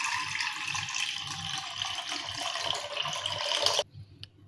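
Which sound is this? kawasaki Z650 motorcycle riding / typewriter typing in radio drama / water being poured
water being poured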